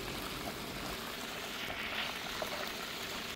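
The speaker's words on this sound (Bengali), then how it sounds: "লবণ দিয়ে চিকেনটা মেখে নিব এবং ডিপ ফ্রাই করে নিব" Salted chicken pieces deep frying in oil for Arabic chicken bukhari, giving a steady, even, fairly quiet sizzling hiss that holds throughout with no talking.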